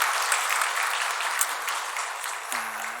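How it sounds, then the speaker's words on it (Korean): Congregation in a church service applauding in a steady, dense patter that fills the room, then cutting off near the end as a low sustained tone comes in. "우리 박수 한번 드리도록 하겠습니다."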